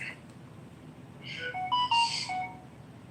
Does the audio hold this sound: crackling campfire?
no